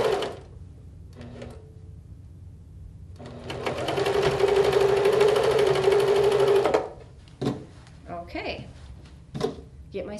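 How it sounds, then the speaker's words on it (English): A sewing machine stitches blue jean denim in one sustained run lasting a few seconds, loud and close. Brief handling clicks and a few short knocks come before and after it. "take it over to my sewing machine again"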